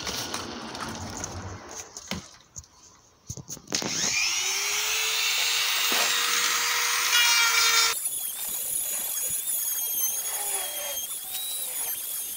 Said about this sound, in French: on va le finir au Dremel.